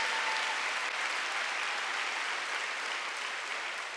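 Sustained applause from a large church congregation during a Wednesday service, dense and even throughout, with no voices standing out.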